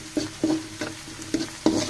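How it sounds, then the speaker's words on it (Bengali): Onions stirred in hot oil for biryani fried onions (beresta), a soft steady sizzle broken by five or six spaced scraping stir strokes, close and moderately loud with no talk. "আমি নেড়ে চেড়ে পেঁয়াজগুলো ব্যবস্থা করে নিব।"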